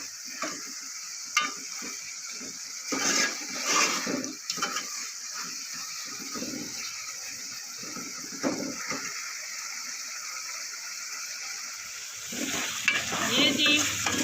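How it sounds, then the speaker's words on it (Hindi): Tomatoes for aloo matar fry in a pan with a continuous soft sizzle, broken by occasional clattering stirs and scrapes, close by and without voices. "टमाटरों को भी 2-3 मिनट उसी तरीके से कुक करेंगे"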